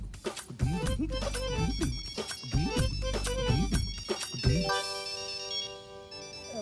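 A phone ringtone plays alone, a repeated melodic ring pattern that rises and falls several times before settling into sustained chiming tones as the call goes unanswered.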